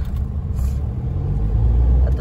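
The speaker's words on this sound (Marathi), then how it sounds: "आता सुटलेला आहे जरा ट्रॅफिक।" Traffic at a busy market road in Goa, a continuous low engine rumble of cars and buses passing nearby, with faint indistinct voices mixed in.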